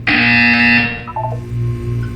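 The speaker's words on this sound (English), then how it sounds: "You will hear a buzzer." A loud, harsh electronic buzzer from the Portal 2 video game sounds once for under a second, then fades into a quiet hum.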